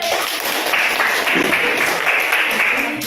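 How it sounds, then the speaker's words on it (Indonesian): Classroom of students clapping for a group of classmates, a steady patter of hand claps lasting a few seconds at close range. "Tepuk tangan untuk kelompok ini."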